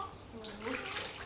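Water splashes softly as a baby is bathed in lukewarm water in a basin, a quiet, close sloshing with a voice talking over it.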